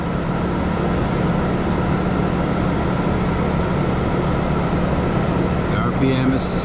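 Truck camper air conditioner on a 2022 Northern Lite truck camper, running on max with a generator, gives a steady, loud hum and whir that holds constant throughout, with a faint brief clatter near the end.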